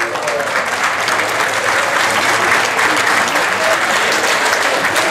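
A festival audience applauds a Carlos lookalike at a celebrity impersonator show, with dense, steady clapping that fills the whole stretch at an even level, no voices on top.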